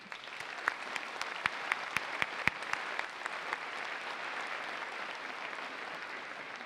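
An audience at a Ferris State University commencement ceremony applauds steadily, with a few sharper individual claps standing out early before the clapping settles into an even, sustained patter.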